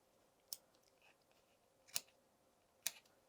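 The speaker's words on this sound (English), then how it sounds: "you can use your scissors, measure to the length required in your pattern, and you can snip" Scissors snip through yarn tassel ends in three crisp, separate cuts spaced about a second apart, close and clear over a faint quiet background with no talk.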